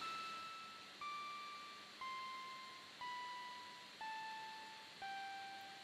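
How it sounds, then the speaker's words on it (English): Sonic Pi talking clock sounding short electronic beeps once every second, six evenly spaced tones each stepping slightly lower in pitch, clean and alone at modest volume. "Just have the beeps every second."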